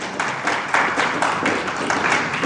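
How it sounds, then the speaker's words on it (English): Audience applause at an international tourism conference in Arusha, a steady wash of many hands clapping at moderate volume, sustained throughout with no voices on top. "More hand of applause to the presenters."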